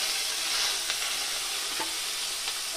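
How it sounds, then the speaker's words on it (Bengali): Marinated tangra fish with roe frying in hot oil, a dense continuous sizzle with faint crackles and pops, close and steady, with no voices. "তো এবার আমি এই গরম তেলে মাছগুলোকে ভেজে নিব।"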